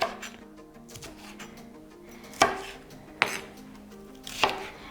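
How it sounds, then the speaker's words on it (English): A knife slices a bell pepper on a cutting board in a home kitchen, giving a few sharp, distinct chops spaced about a second apart over a soft background hum, close up and without speech. "So I'm gonna first slice it."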